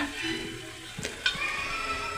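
Hot oil sizzling and crackling steadily, with a couple of sharp clinks of a utensil against the pan partway through.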